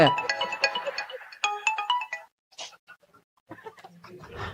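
A phone ringtone plays a bright, melodic electronic tune in repeated bursts that break off into short gaps, with quieter sounds near the end.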